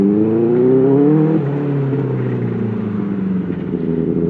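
A Benelli 600i motorcycle fitted with an under-seat IXIL exhaust drones steadily close by while riding, its engine note rising, then dipping into a lower, rougher tone about midway.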